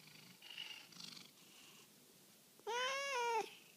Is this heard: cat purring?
yes